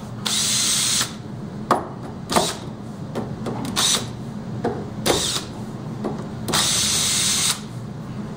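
Power drill backing screws out of a door's kick plate, with repeated short whirring bursts separated by pauses and clicks, loud and close.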